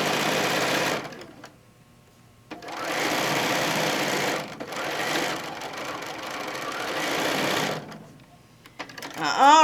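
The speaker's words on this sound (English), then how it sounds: "We're just going to sew this straight down." A sewing machine stitches quilt pieces together with seams butted, running in steady buzzing bursts of about two to three seconds separated by pauses, close and fairly loud, with a brief voice near the end.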